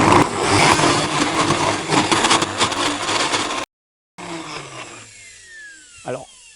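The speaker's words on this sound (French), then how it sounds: "je commence à mixer à vitesse lente" A kitchen blender starts up at low speed, mixing carrot cake batter with figs and coconut. A dense whirring runs for several seconds, cuts out briefly, then sputters back with a rising whine while a voice talks over it.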